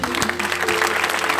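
Congregation clapping along during fervent prayer at an all-night prophetic church service, dense rhythmic claps in a reverberant hall with a sustained musical tone underneath.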